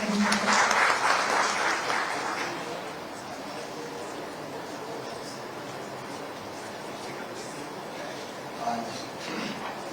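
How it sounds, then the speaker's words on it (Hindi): Audience at a state board exam results announcement applauding to welcome the education and transport minister, a steady wash of clapping that fades under the hall's ambience, with talk behind it. "बहुत ही सम्मान के साथ तालियों के साथ हम स्वागत करते हैं।"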